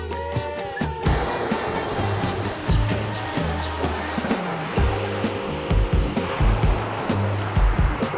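Waves wash continuously over a pebble beach on the Isle of Wight, a steady broadband surf roar with rhythmic low surges and stony rattling, close and loud throughout.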